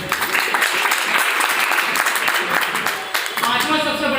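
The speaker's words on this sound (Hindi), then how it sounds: "जोरदार ताली बजाइए।" An audience claps loudly and continuously at a talk on direct selling, a dense, steady patter of many hands close by with some voices mixed in.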